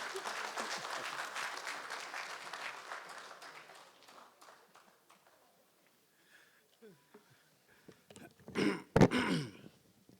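Applause for a distinguished lecturer at a formal lecture event, fairly soft clapping that dies away within a few seconds, followed by a quiet pause, then throat clearing and a cough near the microphone.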